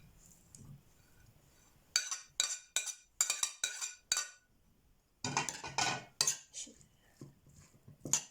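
Zucchini, sausage and cheese being mixed in a bowl, heard as repeated clinking scrapes of a utensil against the bowl in quick uneven bursts separated by short pauses, close and clear.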